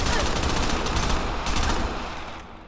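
Sustained automatic gunfire in Crackdown on Xbox 360, loud rapid bursts of shots close up that continue steadily and then taper slightly toward the end.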